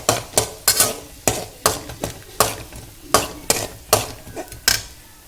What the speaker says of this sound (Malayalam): ഇനി അതിലേക്ക് കുറച്ച് വെളിച്ചെണ്ണ ഒഴിക്കുക ഇനി ഇത് നന്നായി മൂത്ത് വരട്ടെ കേട്ടോ